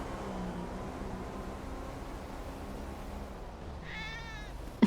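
A cat meows once near the end of the clip inside a roleplay video game, after a stretch of low ambient game noise and hum.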